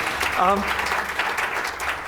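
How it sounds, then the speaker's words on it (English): Audience applause at an awards ceremony, a dense, steady patter of many hands clapping in a hall, sustained throughout, with a brief voice cutting in near the start. "please clap. Yeah, clap yourselves."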